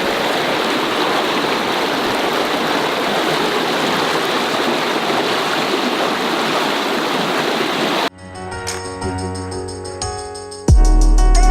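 Loud, steady rush of a river in spring flood roaring continuously in Järvsö, Sweden, then cutting to a quieter scene with a brief thump near the end.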